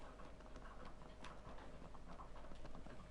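Horse hooves clip-clop at a steady walking pace in Shadow of the Colossus, moderately loud against a dense, constant background of game noise.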